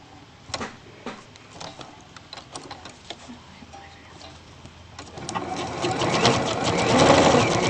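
A sewing machine stitches a couture waistband down close to the edge of a ribbon, its rapid mechanical whir running steadily and growing louder and denser toward the end.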